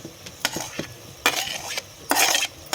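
Onion and tomato being stirred in a pan for a mutton curry over a wood fire, a spoon scraping in a few separate bursts with faint sizzling in between.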